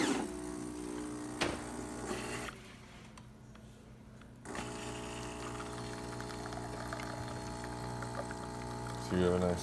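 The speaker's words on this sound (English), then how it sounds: "So you have a nice smooth flow of espresso." Espresso pouring from a Gaggia Titanium espresso machine after pump service, a quiet steady trickle under the machine's low pump hum, with a brief louder gurgle near the start and end.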